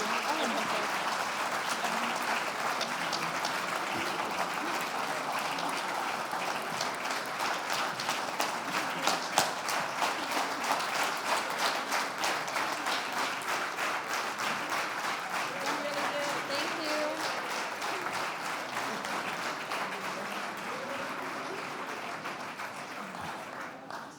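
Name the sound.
audience applause for young talents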